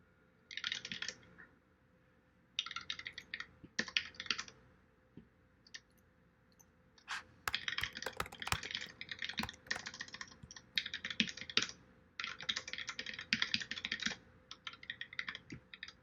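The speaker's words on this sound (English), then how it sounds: "I'm just gonna type, so it's faster." Bursts of rapid clicking keystrokes on a computer keyboard, close and crisp, come in several uneven runs separated by short pauses, with no talking.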